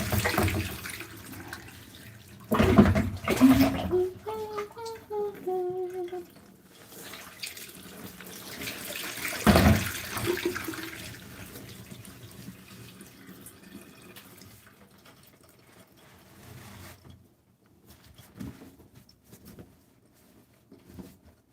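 Running water from a tap splashes and patters while hair treatment is rinsed off, loud in uneven bursts at first and then thinning to quieter trickling and drips.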